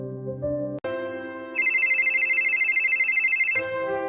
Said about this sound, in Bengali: Please pick up the call, please.